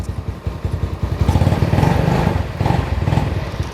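A Venom X18R 200cc automatic dirt bike idles low just after starting, a steady close-up putter with a quiet exhaust and a few clattery thumps as the revs settle.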